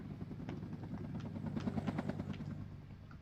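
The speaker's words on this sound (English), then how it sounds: "just fire positioning with rocket choppers instead of like trying to scout all the time with them" Rocket-armed attack helicopters in the video game WARNO give off a steady, faint rotor thrum with soft rhythmic chopping, heard alone at a distance with no talk.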